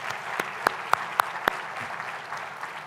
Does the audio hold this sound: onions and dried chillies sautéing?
no